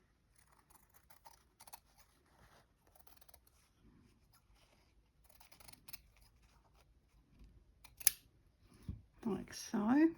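Scissors cut a circle out of Christmas cushion fabric, giving quiet, scattered snips and rustles, with a few louder handling noises near the end and brief talk.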